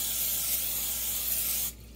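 Cooking spray hisses steadily onto a baking pan that will hold macaroni and cheese, one continuous close spray lasting nearly two seconds before cutting off abruptly.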